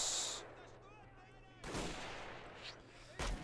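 Gunfire in the WWI urban battle game Men of War Assault Squad 2, a few sharp shots and a heavier blast among faint battle noise, with voices murmuring underneath.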